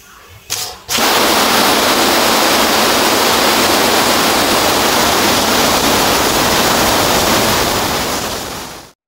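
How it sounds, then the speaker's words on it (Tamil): A pressure cooker of mutton biryani lets out a loud, steady hissing whistle that rushes on for about eight seconds after a short clatter, then cuts off abruptly. "இப்போ இது 4-5 விசில் வச்சுக்கலாம்."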